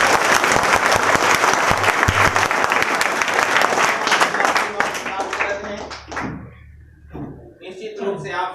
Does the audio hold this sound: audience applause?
yes